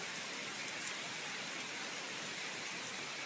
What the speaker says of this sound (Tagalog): Seryoso yung ulan.